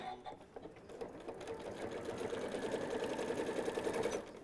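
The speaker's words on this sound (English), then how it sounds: "And you can just sew right off the edge, it's fine." A sewing machine stitches fabric pieces for a stuffed Christmas nativity barn, its motor running as a steady, close, continuous whir with a fast mechanical needle rhythm for about four seconds, with no talk.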